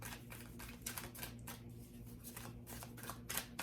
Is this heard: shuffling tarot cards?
yes